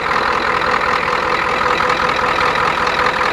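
A 1985 truck's 6.9 IDI turbo diesel idles steadily nearby, a continuous rough clatter with a low knocking pulse that holds even in level throughout, with no voices.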